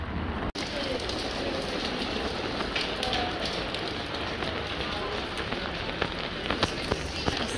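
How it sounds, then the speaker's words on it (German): Heavy rain pours steadily in Galway, Ireland, in a dense, unbroken hiss, loud and close, with occasional heavier drips near the end. "Es regnet leider sehr stark."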